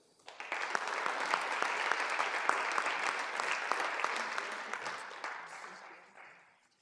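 An audience at a state poetry recitation finals gives the contestants a full, sustained round of applause that swells quickly, holds steady and then tapers away.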